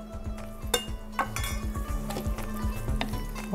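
A utensil scrapes and clinks against a pan as carrots are stirred in with warming onions, with irregular knocks and metallic taps over a faint steady hum and light sizzle.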